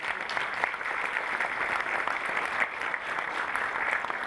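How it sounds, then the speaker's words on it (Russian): An audience at a festive International Women's Day concert in Nazran claps steadily, a dense, even applause of many hands that holds throughout with no voices rising above it. "Давайте похлопаем."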